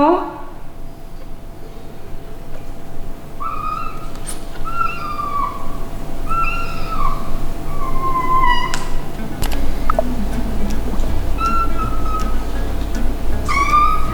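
A kitten being given eye drops meows loudly and repeatedly, a series of sharp, wavering cries spaced a second or so apart over a steady low indoor hum.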